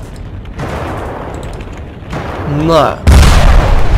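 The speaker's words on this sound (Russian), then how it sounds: "О, это атомный сейчас был взрыв, что ли, или что?" A nuclear explosion in the video game Ravenfield lands as a sudden heavy boom near the end, after distant gunfire rumble and a brief spoken word.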